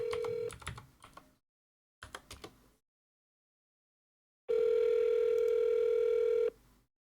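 A Google Voice call plays a steady electronic tone while it connects. A short burst of it comes first, then a longer two-second hold, with scattered keyboard-like clicks in between and quiet gaps.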